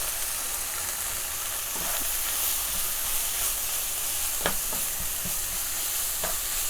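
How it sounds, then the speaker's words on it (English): Paneer chilli masala sizzles in a frying pan under a constant hiss, while a utensil stirs it with several short scraping strokes that cut through up close, no voices present. "I'm going to add about a couple of spoons of paneer chili masala. I'll stir it a little bit."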